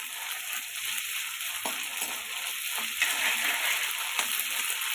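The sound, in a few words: tomato frying with ginger garlic paste in oil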